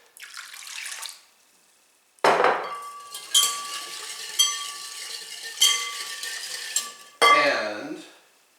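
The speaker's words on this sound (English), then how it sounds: "Then whisk in a half cup of warm milk" Warm milk whisked into a cinnamon roll dough mixture in a bowl, heard as a clatter, then several rhythmic bursts of whisk strokes against the bowl, close and distinct.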